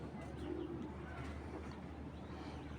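A female pigeon coos softly in a low, steady murmur over a constant background hum.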